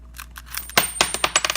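Coins in a zippered leather coin purse clink and jingle close by, first in a few soft taps and then in a quick burst of sharp metallic rattles as the purse is shaken.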